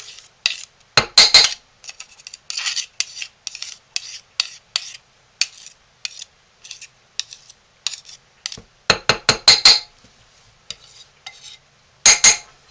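A spoon stirs homemade soap in a crock pot and scrapes its sides, giving repeated close scraping and clinking strokes in uneven bursts with short pauses.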